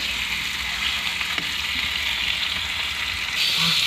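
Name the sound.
tomatoes frying and sizzling in a pan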